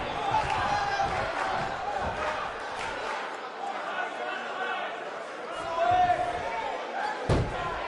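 An arena crowd in the wrestling video game WWE 2K19 roars and murmurs under a commentator's voice, broken by loud thudding slams and a sharp impact near the end.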